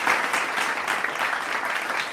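A church night-talk audience claps in a burst of applause, dense and steady for about two seconds, filling the room at close range.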